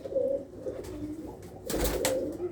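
Pigeons of Pathankot city, old red Cheena birds, coo in low repeated phrases, fairly close, with a brief louder rustle near the end and no talk.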